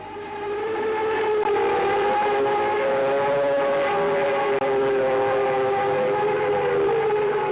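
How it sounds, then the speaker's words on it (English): Several deep, sustained ship sirens sound together in a harbour in East London, South Africa, a long, steady chord, loud and continuous with slight wavering pitch, echoing across open water. "every ship in harbour blew her siren"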